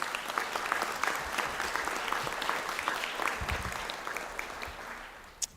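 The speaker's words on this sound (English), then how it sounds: "I ask you to give them a round of applause in their absence." Audience at a university conferring ceremony clapping for absent graduates, a steady crowd of hands applauding at medium distance that slowly thins toward the end, closing on a single sharp knock.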